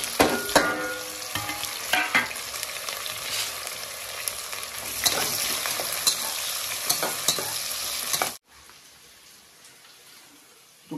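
Cumin seeds sizzle and crackle in hot oil as a spoon stirs and scrapes the pan, a loud continuous frying hiss with scraping clicks that cuts off abruptly near the end, leaving quiet room tone.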